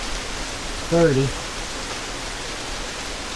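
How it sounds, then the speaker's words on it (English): Rain falls steadily outdoors as an even, broad hiss, and a brief spoken phrase rises over it. "But it's out here raining right now."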